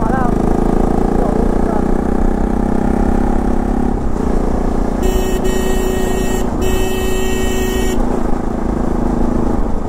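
A car engine idles and runs close by, a steady low rumble throughout with brief higher-pitched tonal sounds from other vehicles midway; voices and ambient street noise mix in.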